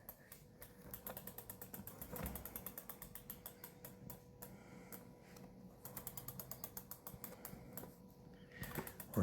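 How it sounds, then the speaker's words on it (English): Rear wheel gear of a Meebike Gallop eBike ticking as the wheel spins, a fast close run of dry ratchet clicks that pauses briefly and resumes, fairly faint with no talk. "The rear wheel, you're going to hear the gear, obviously, but this was already installed."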